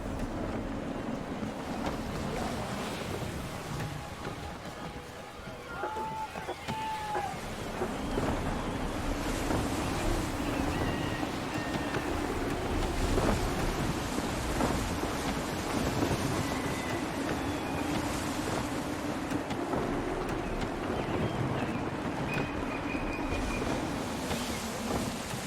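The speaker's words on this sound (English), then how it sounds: "Wind looks to be shifting. Stay alert, Connor. Gusty winds can be difficult to manage." Gusty wind at sea rushes steadily around a sailing ship in Assassin's Creed III, with the roar of waves and creaking rigging underneath and a few faint tonal whistles, continuous and moderately loud throughout.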